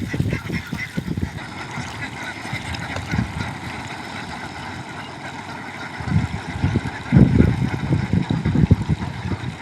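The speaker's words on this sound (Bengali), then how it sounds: "কেবল হাঁস বিলি লেবেছে।" A flock of farm ducks honks and quacks on a lake, the calls dense and overlapping and swelling louder near the end, with a low engine-like hum in the background.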